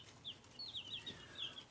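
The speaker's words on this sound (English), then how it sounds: "we just got the chickens home and we've let them out" Newly homecoming backyard chickens, just let out, cluck softly in a quick series of short calls over a low rumble of background noise, with a sharper sound at the very end.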